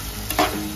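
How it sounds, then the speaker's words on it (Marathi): Onions for a masoor curry are stirred in a hot pan, giving one brief scrape and sizzle that stands alone at close range. "चांगला फ्राय झाला पाहिजे कांदा।"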